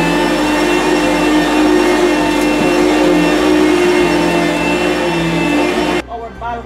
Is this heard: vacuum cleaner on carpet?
yes